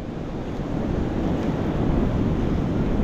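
Storm waves driven by a typhoon surge close to the shore, making a loud, continuous rumbling wash mixed with gusty wind buffeting the microphone.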